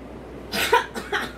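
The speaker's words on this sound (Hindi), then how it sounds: "अब मुझे खांसी आ रही है।" A woman gives a short cough during a health awareness session, a couple of close, sharp bursts after a quiet start.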